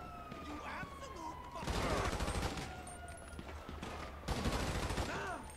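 Bursts of gunfire in a GTA V street shootout, loud and close in two heavy volleys, with police sirens wailing behind and voices talking over the action.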